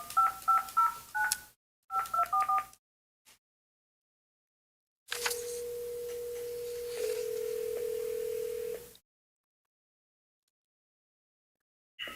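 A desk phone dials out during a city council committee meeting with two quick bursts of keypad tones, then a steady ringback tone lasting several seconds in an otherwise quiet room.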